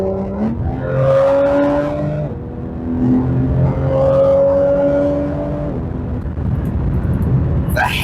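Porsche GT3 RS engine revving and accelerating through rising gear pulls, loud and close from inside the car, with clear upshifts and a sharp rev near the end.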